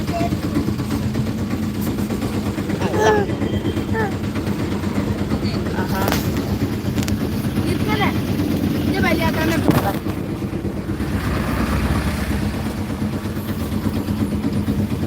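An auto rickshaw engine runs steadily with a loud, constant rumble and wind buffeting while a person talks over it.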